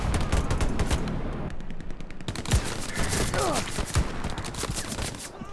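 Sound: gunfire in video game Hell Let Loose

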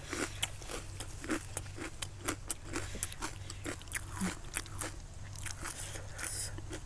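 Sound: crunchy chewing of crispy pork rinds

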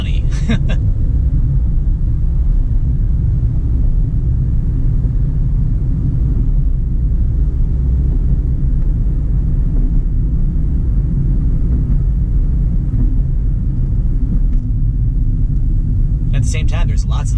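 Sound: heavy road traffic in West Houston

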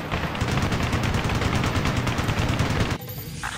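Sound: heavy gunfire in video game Ace Combat: Assault Horizon

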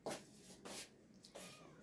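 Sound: cat meowing

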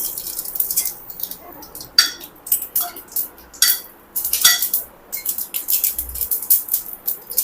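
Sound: mustard seeds popping in hot oil

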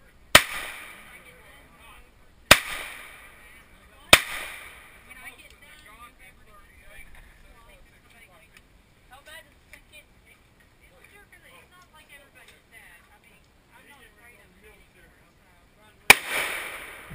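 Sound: 357 revolver gunshots

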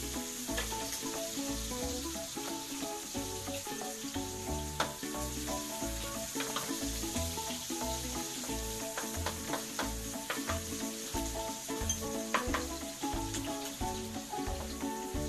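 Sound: onions sautéing in a pan for menudo

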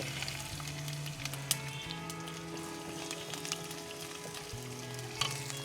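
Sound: mustard seeds spluttering in oil for sardine curry

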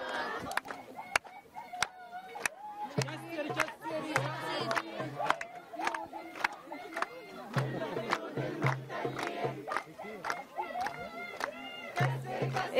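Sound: crowd chanting slogans at a Nakba commemoration

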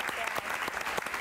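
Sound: audience applause for a singer

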